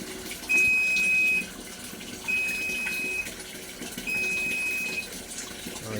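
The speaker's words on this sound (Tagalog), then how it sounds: "Pag naubos po yung pinaka-time na nakaset dito, saka po mag-i-stop yung tubig." Water flows from a coin-operated water vending machine in Isabela, coming in steady gushing bursts that start and stop, with a faint high tone sounding along with each run of water.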